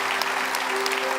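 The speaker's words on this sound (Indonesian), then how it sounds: "Tepuk tangan buat mereka berdua." A television studio audience claps together in a brief, dense burst of steady applause, with a faint tonal hum underneath.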